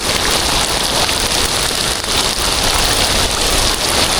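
Heavy rain pouring steadily outdoors, a dense, loud, unbroken hiss of drops drumming on surfaces with no gaps or voices.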